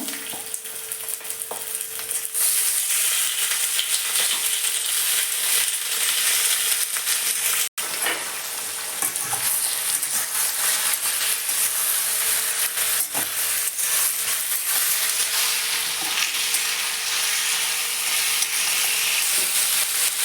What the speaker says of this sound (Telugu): ఉల్లిపాయలు కరివేపాకు చికెన్ వేసుకునేస్తాము